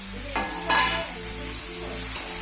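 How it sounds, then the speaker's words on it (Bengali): Raw meat goes into a pan of frying tomatoes for a meat curry, bringing a close, loud burst of sizzling and stirring over a steady hiss and a low electric hum. "কাঁচা মাংসটাকে দেবো তো কাঁচা মাংস দিয়ে দিলাম"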